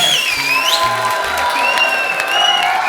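A studio audience at a comedy talk show bursts into loud, sustained applause and cheering, with a shrill whistle-like tone sweeping over the clapping throughout.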